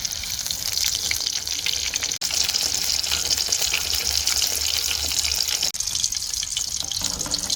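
Vada frying in hot oil, a steady loud sizzle and crackle with two brief dropouts, alone without talk.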